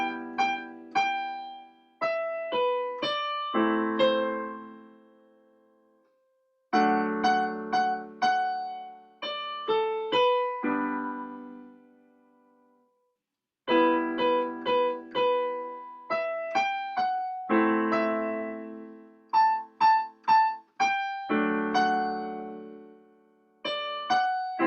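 Solo piano plays a song slowly, close and clear, in three phrases of sustained chords and melody notes separated by brief pauses, with no voices.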